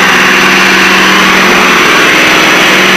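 A Piper Seneca's aircraft engines drone steadily after being throttled back for descent, a loud, constant hum with a fixed tonal whine and no change in pitch.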